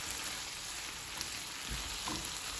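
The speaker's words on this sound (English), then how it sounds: "you want to fry your meat a little bit more" Steak frying in a pan for Mexican-style bistec gives a soft, steady sizzle throughout, fairly quiet with a couple of small pops, no voices.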